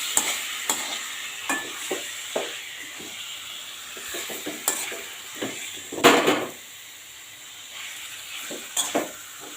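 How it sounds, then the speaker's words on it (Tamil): Chicken pieces sizzling in a pan on a low flame while a utensil stirs them, scraping and knocking against the pan several times at an irregular pace over a steady frying hiss. "இதை வந்து லைட்டாக இந்த மாதிரி எல்லா பீஸையும் கிளறி விட்டுருவோம்."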